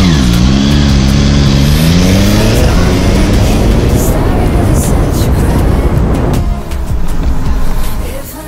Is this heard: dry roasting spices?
no